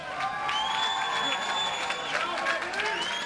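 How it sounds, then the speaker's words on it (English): Crowd at a mixed martial arts cage event applauding and cheering for both fighters, a dense continuous roar of clapping and whoops from a large indoor audience. "a big round of applause, please, for both of the fighters in this cage"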